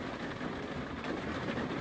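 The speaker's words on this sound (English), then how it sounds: "Looks like the rain's lightened up quite a bit." Steady rain falls on the Appalachian Trail in Maine near Moxie Bald Pond, a dense, even hiss of drops on the surroundings that continues unbroken throughout, with no voices.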